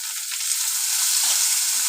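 Sliced onion with curry leaves and garlic sautés in a pan for a Kerala-style chicken stew, a steady, loud, close hiss of frying that runs unbroken the whole time with no voices.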